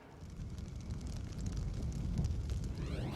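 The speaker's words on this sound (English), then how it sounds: "Nothing quite like a nice explosion at the end of the day, right?" A military explosion at a tank demonstration produces a sustained, roaring rumble that builds steadily over a few seconds, heard alone without speech.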